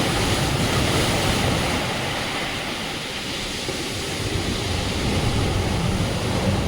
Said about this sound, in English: Now the water is entering the cave.